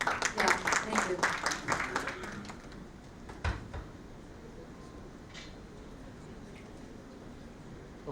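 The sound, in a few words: audience applause at a launch event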